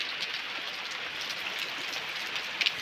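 Steady rain falls in the mountains, a dense even hiss that stays constant throughout, with a couple of slightly louder drips or taps near the end and no voices.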